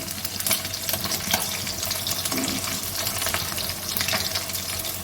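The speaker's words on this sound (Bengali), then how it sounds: "তো মাছগুলো ভাজা হয়ে গেছে, তুলে নিলাম।" Small bata fish fry in hot oil in a pan. A dense, loud, steady crackling sizzle fills the whole stretch, with a few brief spatters and no voices.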